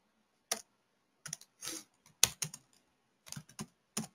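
A computer keyboard is typed on while code is written, with close, sparse clusters of crisp key clicks separated by short pauses of near silence.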